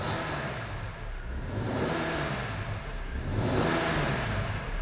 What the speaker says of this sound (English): it's warm enough so we can give it a little bit of revs